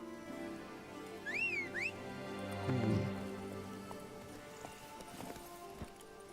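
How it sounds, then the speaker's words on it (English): Horse hooves clip-clop in a steady rhythm during a long ride in The Witcher 3, a soft, moderately distant patter mixed with faint background tones and brief whistle-like chirps. "we're in for a very, very long horse ride"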